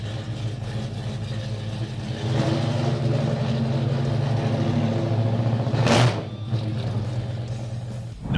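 A deep, rumbling V8 engine of a 1969 muscle car idles close by, rising into a throaty growl with a brief sharp burst of revving near the end.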